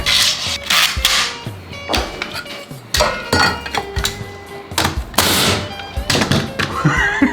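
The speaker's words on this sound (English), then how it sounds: "So, you can shoot screws through your nail gun." A framing nail gun fires screws through a thin 1/8 or 1/16 inch aluminum sheet in a workshop, making several sharp, loud thunks with scraping and rubbing handling noise between the shots.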